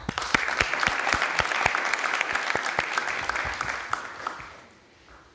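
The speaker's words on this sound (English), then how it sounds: "So please, once again, one round of applause for Ala." A crowd at a medical students expo in Zimbabwe applauds steadily with dense clapping, holding strong for about four seconds before thinning and fading out.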